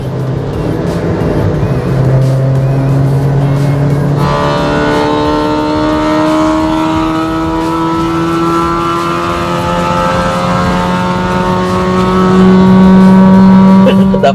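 Honda Civic Type R fitted with full sound deadening, heard from inside as the engine pulls hard, its rising tone climbing steadily through the gears and growing louder toward the end.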